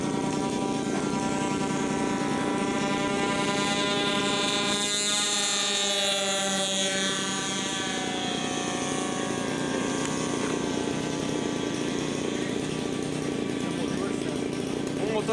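A Cessna 310 aircraft's engine runs in flight as a loud, steady droning hum with a buzzing harmonic tone, slightly wavering in pitch, continuous and close throughout.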